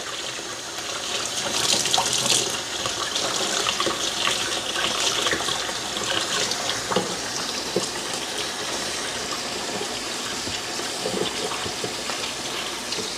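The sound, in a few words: washing a fork under a running tap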